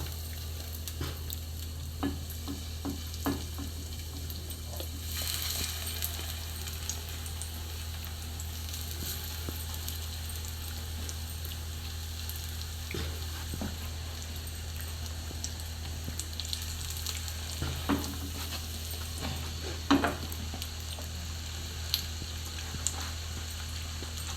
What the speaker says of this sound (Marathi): लो गॅसीर तो फ्राय करपाचें ते सुसेगाद.